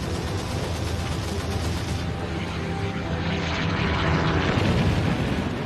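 A continuous roar of World War II German Luftwaffe aircraft engines overhead, broad and rumbling, swelling slightly louder toward the end.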